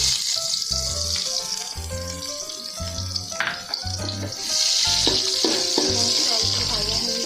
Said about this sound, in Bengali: নাড়াচাড়া করে দিয়ে দেবো পেঁয়াজ কুচি।